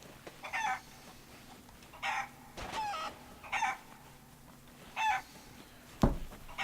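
A white chicken in the pirate video game Sea of Thieves gives about five short, evenly spaced bursts of clucking, with quiet gaps between them. A dull thump follows near the end.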